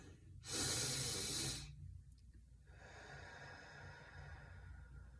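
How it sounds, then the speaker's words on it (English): Deep breathing demonstrated for meditation: one loud, drawn-out breath taken in, followed by quieter, steady airflow out, close and without talk. "you're supposed to take deep breaths like this"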